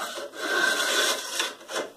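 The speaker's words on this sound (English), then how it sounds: "I'm trying to scrape some amount of the rust inside." A metal bar rasps back and forth inside an antique saber scabbard, scraping out rust in several rough, repeated strokes, close and moderately loud with no talking.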